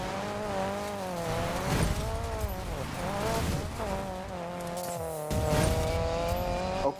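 Tires squealing as a car drifts in the racing game NFS Payback, long wavering screeches laid over a revving engine that rises and falls, close and continuous.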